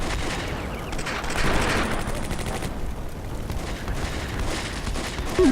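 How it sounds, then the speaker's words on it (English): A bazooka fires during a battle in the Combat Mission: Beyond Overlord war game at La Fiere, heard as a dense, steady roar of gunfire and explosions that runs the whole time without pause. "The bazooka."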